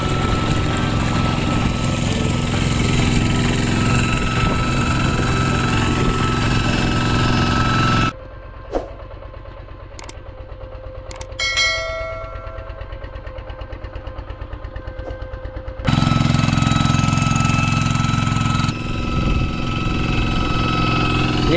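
A farm tractor engine in a rice paddy runs loud and steady, dropping away for several seconds while clanks and metallic taps sound, then roaring back at full strength.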